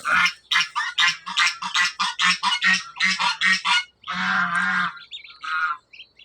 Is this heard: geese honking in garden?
yes